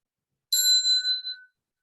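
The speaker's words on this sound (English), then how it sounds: "This is a small bell that we use in our Buddhist tradition to signal the beginning or ending of a chant." A single bright ding from a small Buddhist chanting bell, ringing clearly with high shimmering overtones that fade quickly in near silence.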